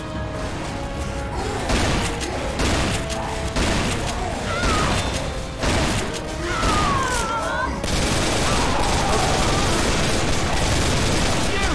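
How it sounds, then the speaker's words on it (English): Dense, loud automatic gunfire keeps blasting without pause as survivors fire at the Tank in the video game Left 4 Dead 2, with players shouting over the continuous shooting. "Keep shooting! You shoot the tank!"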